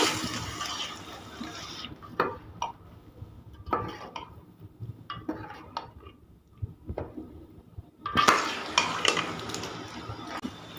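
Potatoes and spinach for aloo palak are stirred in a pan on the stove, with a spoon scraping and clinking against the metal in irregular strokes over a soft sizzle, growing louder and busier near the end.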